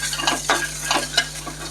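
Peanuts roasting in ghee in a pan while being stirred, brisk scraping strokes of a spoon against the metal every fraction of a second over a faint sizzle.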